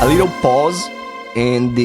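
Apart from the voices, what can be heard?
No everyday noises stand out.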